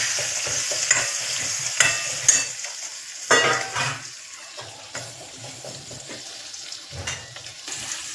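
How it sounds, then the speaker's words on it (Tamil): Onions sautéing in oil in a pan while making kathirikai vatha kuzhambu, a soft sizzle under intermittent stirring and scraping, with a few louder clattering bursts. "இப்போ வந்து நெக்ஸ்ட்டு வெங்காயம் எடுத்து வச்சு இதில் போட்டு கொஞ்சம் வதக்கணும்."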